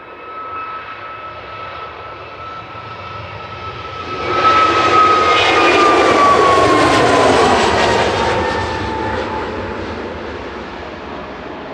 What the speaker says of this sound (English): Next up for departure is Egypt Air Flight 782 back to Cairo